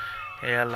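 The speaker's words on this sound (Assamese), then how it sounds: "সেইটো মোৰ মেকুৰী" A pet cat in a home vegetable garden gives a short, faint meow while a person speaks over it nearby.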